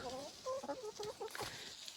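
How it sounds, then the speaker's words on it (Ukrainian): A Brahma rooster and hens cluck softly in a farmyard, a run of short, pitched clucks close by over a steady background hiss. "Півник у нас один залишився, півник брама і ще маємо кілька курочок брама."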